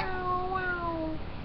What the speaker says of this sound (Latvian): Kur kaķis? Ā, te pa visu tagad kaķis